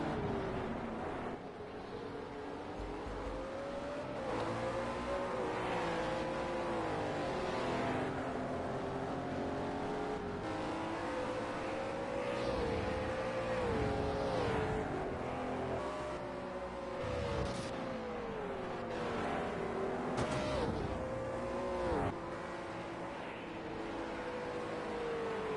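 World Series by Renault race cars lapping at Bathurst, engines droning and rising in pitch as they accelerate and pass, a dense, steady roar of several cars with no talk.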